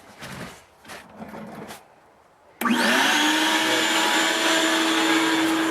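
An air blower starts up to blow out the lines of an in-ground pool during closing, switching on abruptly after a few quiet seconds of handling noise and then roaring loud and steady with a high whine.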